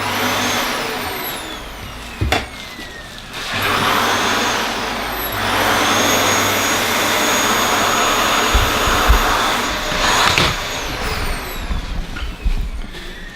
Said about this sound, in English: He just follows me around with the Hoover while I'm hoovering